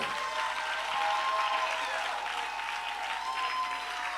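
A church congregation applauds loudly and steadily, with dense continuous clapping from many hands filling the room, no pauses throughout.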